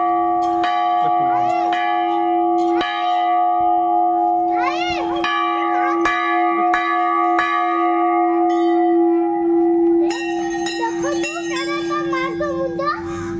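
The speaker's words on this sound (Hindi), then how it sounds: "देखो केते बड़ घंटी" A large temple bell at the Kantabausuni Maa shrine rings repeatedly in loud, resonant clangs with long sustained hum, struck at irregular intervals while children's voices chatter in the background.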